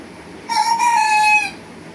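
A rooster crows once nearby, a loud single drawn-out call lasting about a second against a quiet room background.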